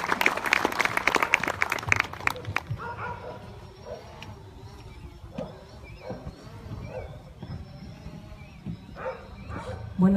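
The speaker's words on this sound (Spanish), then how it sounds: "Un fuerte aplauso" An audience at an annual Red Cross fundraising ceremony in Pinotepa Nacional, Oaxaca, gives a burst of dense clapping that dies away after a couple of seconds, leaving room murmur and scattered noises.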